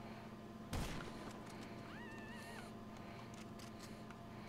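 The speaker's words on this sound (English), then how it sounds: "All I can hear is explosions." A single sharp blast of explosion or gunfire in the video game GTA 5 cracks out early, faint against a low steady background hum, with a brief tonal whine afterwards.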